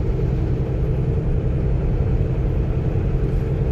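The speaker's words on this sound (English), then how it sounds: "Alright, so I'm just in 12th gear now, cruising, so we'll be in Nebraska here." A semi truck cruising in 12th gear on the I-80 freeway heading into Nebraska, heard as a steady, loud cab rumble with broadband road and engine noise that holds even throughout, no talking.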